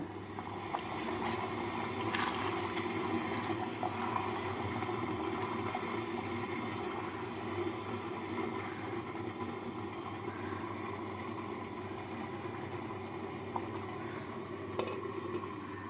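Chicken polao simmering in a pot after hot water is added, giving a steady bubbling, sizzling wash with a few scattered clinks and scrapes, moderately loud and continuous with no voices.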